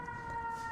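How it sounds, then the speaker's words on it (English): A siren wails steadily in the distance in Midtown Manhattan, a thin sustained tone over low street rumble. "I'm sorry about the sirens."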